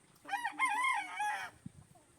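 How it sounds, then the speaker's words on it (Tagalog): A rooster on a farm gives one loud, close crow of about a second and a half, followed by a few soft clucks, with chickens being caught for sale. "Kinukuha na ni Richard yung ipapadalang manok"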